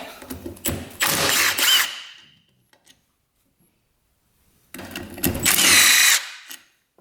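A power tool runs in two loud, whirring bursts of about two seconds each, separated by near silence, as it takes the case bolts out of a 450cc dirt bike engine; no voices.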